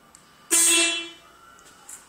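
A car's original stock horn gives one loud, close blast lasting about half a second, then fades out, with quiet background before and after.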